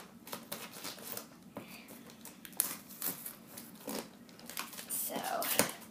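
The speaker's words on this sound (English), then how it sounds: "So I got my scissors here, and let's start by opening it up." Scissors snipping and tape rustling while a cardboard package box is opened for an unboxing, a close run of crinkles, tears and clicks with a louder rip near the end, under a person's talk.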